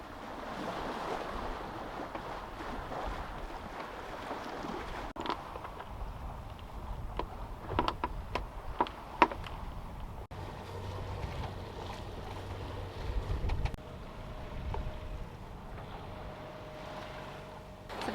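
A sailboat moves through waves at about five knots, with water rushing and sloshing against the hull, wind buffeting the microphone, and scattered knocks and creaks aboard.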